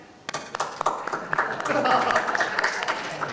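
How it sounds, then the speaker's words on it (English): Audience clapping in a conference hall at a Singapore travel summit talk, starting as scattered claps and swelling into a steady round of applause with a murmur of voices underneath. "So clap again"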